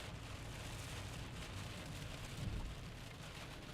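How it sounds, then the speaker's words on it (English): A nighttime thunderstorm brings a steady hiss of rain with a low rumble of thunder swelling briefly, all faint and distant. "these are just good old-fashioned thunderstorms tonight that are noisy"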